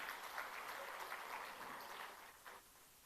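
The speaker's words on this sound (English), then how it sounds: "Big round of applause once again." Steady, fairly distant applause from a national conference audience, a continuous wash of clapping that holds evenly for a few seconds.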